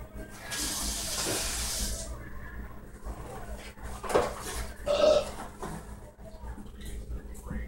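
A tap runs for a drink of water, a hissing gush near the start, then splashes and clinks in a sink, with a voice talking at times.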